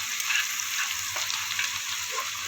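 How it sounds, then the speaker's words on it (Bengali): Grated ginger and garlic frying in a pan give off a steady, close sizzle with a faint stir near the middle; no one speaks. "যতক্ষণ না কাঁচা গন্ধ যাবে ততক্ষণ একটু ভাজা ভাজা করে নিতে হবে।"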